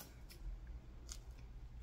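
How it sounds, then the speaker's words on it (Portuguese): Scissors snip teeth off a 24-centimetre zipper, two or three quick, crisp cuts close by against a quiet room background, with no talking. "cortar um pedacinho dos dentinhos do zíper e passar o nosso cursor"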